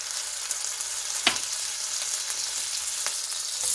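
Butter sizzles in a small frying pan where minced beef steak is cooking, a steady close crackling hiss with a few sharper pops and spatters.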